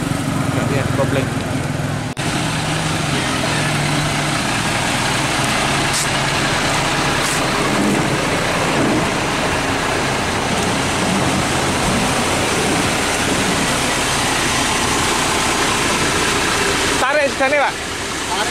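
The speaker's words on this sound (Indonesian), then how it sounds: "Ini sekarang mobil yang belakang ini memang udah gak bisa masuk gigi lagi sekarang." A UD Quester truck stuck on an uphill grade, unable to engage gear, with its diesel engine running in a steady, loud, rumbling drone throughout, close by, while people talk over it.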